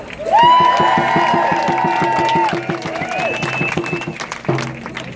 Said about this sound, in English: a really big round of applause for Joe Smith and Catherine Del Campo